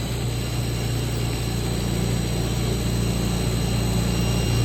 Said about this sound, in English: So that's the reclaim pump, and then that's the hydro motor for the conveyor